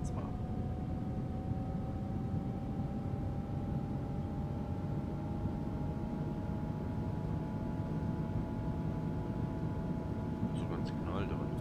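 A train accelerates through a tunnel in the Zusi train simulator, giving a constant low roar with a faint, slowly rising whine layered on top. Someone talks over it and a few short clicks sound near the end.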